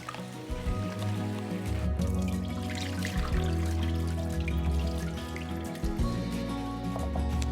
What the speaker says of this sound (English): Rinse and drain the lentils.